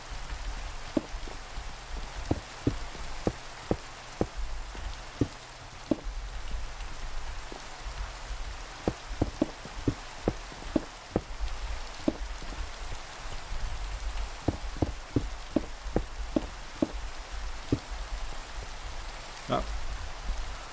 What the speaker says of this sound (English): And just like that, all the rain is gone.